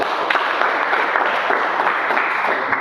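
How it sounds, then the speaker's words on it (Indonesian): A classroom of students claps together in a steady, dense round of applause, fairly loud and close, with no voices over it. "Bagus, aplaus dulu."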